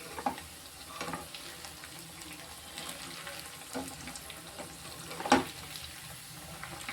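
Marinated cauliflower for gobi manchurian deep frying in a pan of oil, a low, soft bubbling sizzle with occasional faint clinks and one sharper tap, fairly quiet overall.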